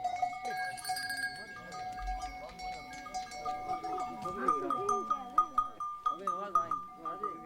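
A flock of sheep and goats on a path near Bikaner, India, bleating repeatedly in overlapping calls, some near and some farther off, mixed with bell-like clinks, while a voice talks throughout.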